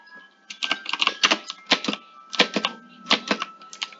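Rapid clattering bursts of computer keyboard keys during a video game, arriving in uneven clusters of quick strokes, close and fairly loud against a faint steady hum, with no talking.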